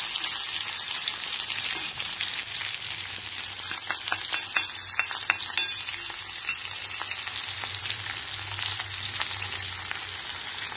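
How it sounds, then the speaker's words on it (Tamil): Vegetables with turmeric and salt sauté in a hot pan, giving a constant sizzle with repeated scraping and clinking of a stirring spoon against the pan, close and fairly loud. "சேர்த்துட்டு ஒரு மஞ்சப்பொடி, உப்பு இதெல்லாத்தையும் போட்டுட்டு கொஞ்சம் நேரம் நல்லா வதக்குங்க."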